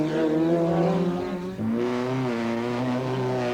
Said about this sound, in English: In his Sierra Cosworth, John tops the times on both days.